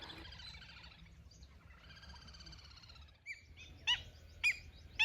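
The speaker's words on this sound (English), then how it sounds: "Bird life thrives here" Birds at Lonar crater lake, a salty inland lake, call outdoors: trilling chirping phrases first, then several sharp, clear tweets that ring out one by one, moderately near.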